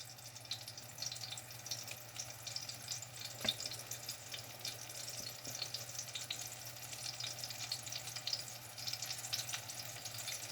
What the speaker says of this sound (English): Just put them in your hot grease or whatever you're using.